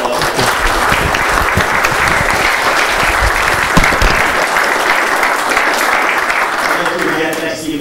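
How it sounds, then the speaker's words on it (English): An audience at a lecture on 5G wireless bursts into loud, dense applause that holds steady for several seconds, then thins out and fades toward the end. "So again, more round of applause."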